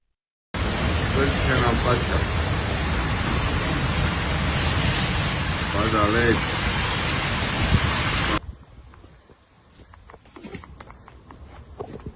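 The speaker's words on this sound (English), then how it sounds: "Heavy rain accompanied by hail and extremely strong winds" Heavy rain driven by extremely strong wind during a hailstorm in Split, Croatia, a loud continuous roaring wash that stops abruptly, giving way to quieter, scattered sounds.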